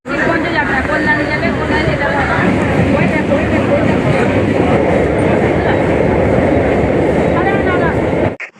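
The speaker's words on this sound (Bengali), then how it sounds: "আর ট্রেনটা চলে এসেছে" A train pulls into a station near Naihati with a loud, steady rumble and rattle under crowd chatter, cutting off abruptly at the end.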